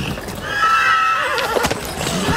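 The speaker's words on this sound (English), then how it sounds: "Little Joe caught himself a wild horse" A freshly caught wild horse lets out a loud, close, shrill neigh that wavers and trails off, with a few hoof clops and some rustling underneath and no speech.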